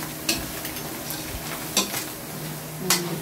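Bopis is stirred in a frying pan over a soft background sizzle, with three sharp scrapes of the utensil against the pan.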